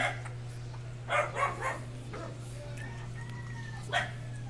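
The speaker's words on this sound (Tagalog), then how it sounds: "tumatahol yung aso" A few short dog barks sound from nearby, spaced apart over a steady low hum, with one more bark after a pause.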